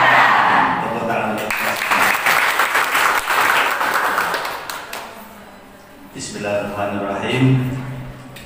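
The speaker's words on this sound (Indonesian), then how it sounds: "Tepuk tangan." Teachers at a school gathering for a teacher-training program break into applause, a dense burst of clapping that fades out, after which a voice begins speaking.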